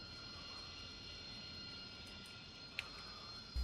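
An AV-8B Harrier II jet engine idling after start in the DCS flight simulator, a steady whining hum with a faint high tone, plus one brief click near the end and no talking.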